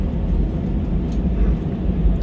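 Airbus airliner on a takeoff run from Manila bound for Iloilo, heard from inside the cabin as a steady, loud low-frequency engine roar and rumble that stays even throughout, with no talk.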